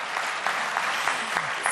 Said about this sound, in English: I know we did one round of applause, but just a second one to get us started for the day.